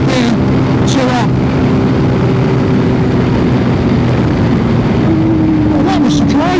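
A Voge 300 Rally motorcycle cruises at 70 mph in sixth gear with a rider and passenger, its loud steady engine drone mixed with heavy wind rush throughout, close up.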